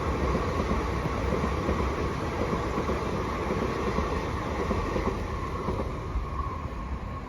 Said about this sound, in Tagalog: dumana yung train